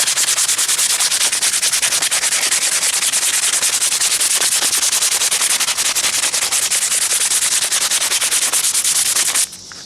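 Fine-grit sandpaper rubs by hand across a shield in quick, steady back-and-forth strokes, loud and close, stopping abruptly near the end.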